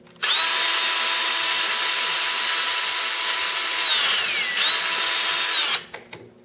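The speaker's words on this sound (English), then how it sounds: "let's just drill this real quick" A power drill boring a hole in wood for a hobby paint rack, a loud close whine that runs steadily for about five seconds, dips briefly in pitch under load, then stops with a few small clicks.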